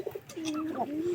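A weak pigeon gives a short, soft coo, a low smooth call that rises and holds, close by and faint, with a couple of brief taps at the start.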